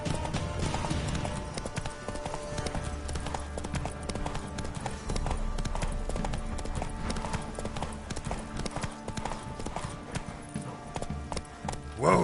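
Roach the horse trots with steady, rhythmic clip-clopping hooves in The Witcher 3, loud and continuous alongside game music and ambient sound.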